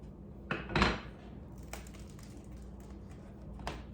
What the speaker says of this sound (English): this is an actual bread cutter. So, and you can hear it, it's nice and crispy